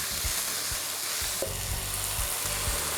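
Ginger, garlic and cut lemongrass sizzle steadily in a hot pan, a constant close frying hiss with soft periodic stirring scrapes and no voices.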